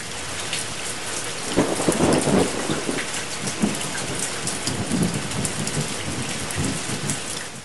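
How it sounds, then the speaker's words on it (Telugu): Heavy rain pours down in Jagtial district, Telangana, a dense steady roar of drops on surfaces, with rolls of thunder rumbling through in the first few seconds. "జగిత్యాల జిల్లాలో వాన దంచి కొడుతుంది."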